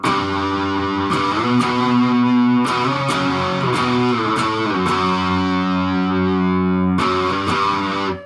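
A distorted electric guitar plays a chunky riff of sustained chords with sharp pick attacks, loud and continuous, no voices.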